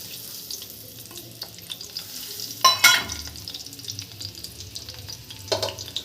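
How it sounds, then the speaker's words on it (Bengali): Chopped garlic frying in oil in a pan for chow mein: a steady, fairly quiet close sizzle with a brief louder scrape or clatter in the middle and another near the end, and no voices. "তেল দিয়ে রসুনটা দিয়ে দিয়েছি।"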